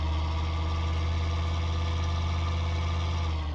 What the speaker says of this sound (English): let us start the engine manually